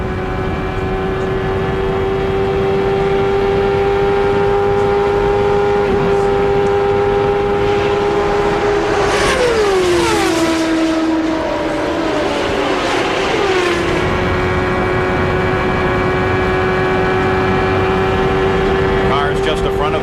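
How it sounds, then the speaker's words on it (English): A 1993 CART IndyCar at the Michigan 500, heard from an onboard camera on the race leader's car, holds a loud, steady high engine note that dips briefly as the throttle lifts, then climbs back to full song. "We'll just listen to the throttle response here."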